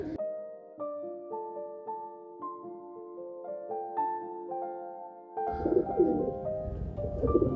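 High flyer pigeons coo in soft, repeated low calls, one after another, with a louder burst of rustling and fluttering near the end.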